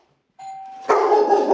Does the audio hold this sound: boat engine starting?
no